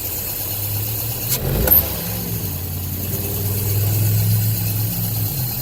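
A Toyota Echo engine idles with a misfire, its steady low rumble broken by a sharp click early on and a slightly uneven, lumpy note throughout, close and without talk.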